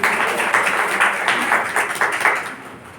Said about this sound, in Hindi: ताली तो बजाओ उनको।